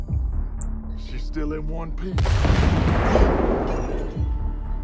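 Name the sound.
car explosion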